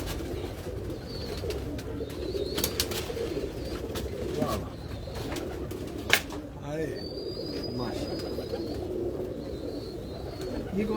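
Pigeons in a Lahore pigeon fancier's loft coo softly and continuously in a low murmur, with occasional clicks and a brief whistle-like tone, while people talk nearby.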